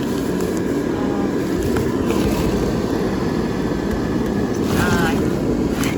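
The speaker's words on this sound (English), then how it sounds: "you can tell just by my hand that it is a big fan" A large blower fan inside an inflatable Halloween decoration of Dracula rising from a coffin runs close by as a steady, loud, broadband whoosh and rumble, like rushing air, with brief handling noises.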